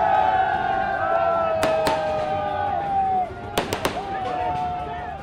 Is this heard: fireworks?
yes